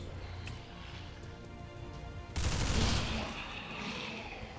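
Squad gunfire in XCOM 2, a sudden loud burst of shots erupting midway through a quieter game ambience, then easing into a lingering rumble.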